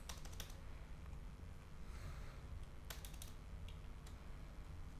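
Keys clatter on a computer keyboard while figures are entered into an accounting spreadsheet, quiet scattered taps and short bursts over a low steady background hum.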